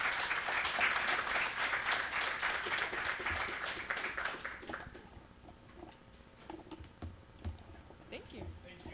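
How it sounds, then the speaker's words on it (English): Audience applause at a BSidesLV 2025 security conference, dense and loud for the first five seconds, then thinning into scattered claps and room noise. "let's give me one more round of applause."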